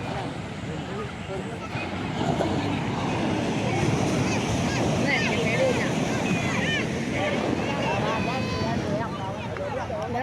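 A fishing boat out at sea off the Chavakkad beach, heard as a steady rush of waves and wind buffeting the microphone, with people talking over the continuous surf noise.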